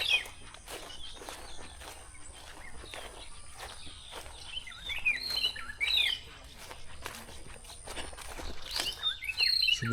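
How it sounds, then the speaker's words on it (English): A robin chat calls loudly from nearby trees in a Kenyan village, its bright repeated whistles and chirps mixing with other birdsong and occasional footsteps throughout. "Oh, now I get it. It's a robin chat."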